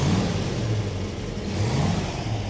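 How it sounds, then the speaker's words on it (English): A fully restored 1965 Ford Mustang 2+2 engine revs up and down in a loud, close, continuous roar with rising and falling pitch. "All right, David, rev the engine, sir."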